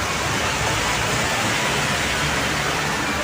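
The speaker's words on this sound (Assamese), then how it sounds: "এতিয়া চাওক কিমান বৰষুণ এতিয়া দেখা পাইছেনে" Heavy continuous rain in Goa pours as a steady, dense, loud hiss across the whole stretch, with no talk.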